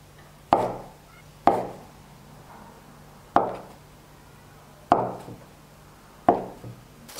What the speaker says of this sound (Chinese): 切成小方块